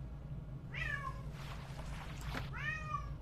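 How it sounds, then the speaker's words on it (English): A house cat meows twice, a drawn-out rising-and-falling call and then a second similar one, close and clear over a steady low hum with no talking. "My cat's cheering me on again"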